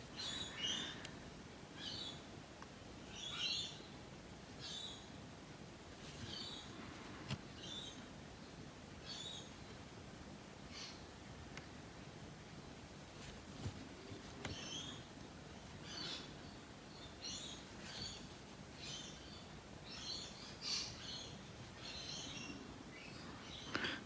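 Distant morning chattering and chirping of lorikeets and Indian mynas scattered over a soft background hiss, faint and continuous with no voices.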